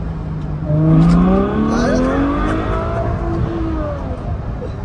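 A car accelerates hard in fourth gear, its engine note climbing steadily in pitch as it pulls strongly. The sound is loud and close, like it is heard from inside the cabin.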